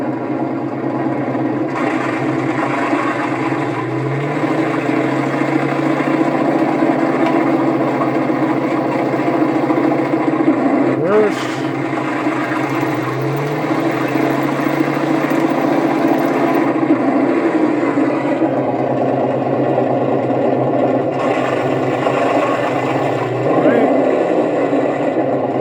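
A 1/16 scale RC Jagdpanther tank drives forward, its electric motors and gearbox whining steadily with rising and falling pitch as the speed changes, while someone talks over it throughout.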